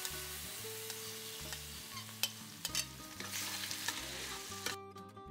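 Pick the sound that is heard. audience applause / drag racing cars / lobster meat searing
lobster meat searing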